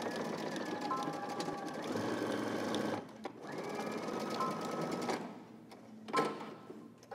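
Sewing machine stitching a seam on a men's garment pattern, a steady mechanical whir running for several seconds, pausing briefly, then resuming in shorter bursts, close and alone.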